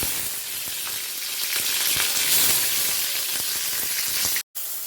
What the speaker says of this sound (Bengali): উচ্ছেটা ভাজছি